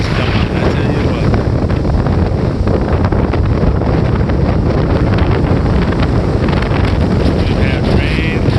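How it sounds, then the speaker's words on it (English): Strong wind roars steadily across an open beach at Waves, North Carolina, buffeting the microphone throughout, with surf rumbling beneath it and no pauses in the gusting. "It's very windy, not as sunny."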